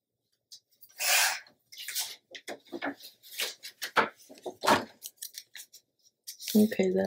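Scissors snipping paper for a decorated craft page, a string of short close crisp cuts in uneven bursts, ending with a louder rustle of handled paper.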